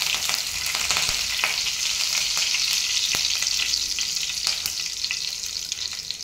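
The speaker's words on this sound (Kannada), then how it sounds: "ಕರಿಬೇವು ಸೊಪ್ಪು ಹಾಕ್ಕೊಳ್ಳೋಣ." Curry leaves hit about two tablespoons of hot oil with spluttering mustard seeds, cooking a village-style greens curry. A loud, steady sizzle with scattered sharp crackles runs throughout, with no talking.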